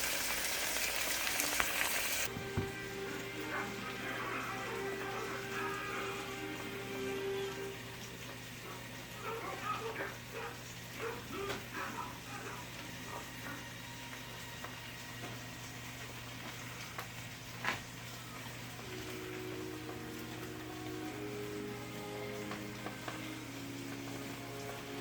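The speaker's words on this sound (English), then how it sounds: "And we're going to let this fry." Steak fries in a pan on a home stove, a steady low sizzle with occasional crackles and brief stirring noises, with intermittent background talk.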